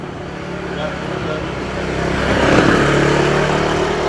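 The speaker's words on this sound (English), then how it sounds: "Bloody motorcycles." Motorcycle and vehicle traffic passing on a street in Thailand, a broad engine roar and whir that swells louder toward the middle as vehicles draw close, then holds as a dense rumble.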